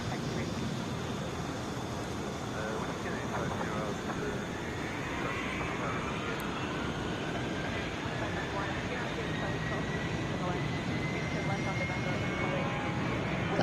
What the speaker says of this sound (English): It's a Boeing 757.